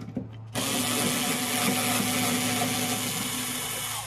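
Power tool or ratchet spinning out the last 10 mm bolt on a 2013 Kia Rio rear hatch, a close, steady whirring buzz that starts abruptly after a brief quiet moment and runs continuously to the end.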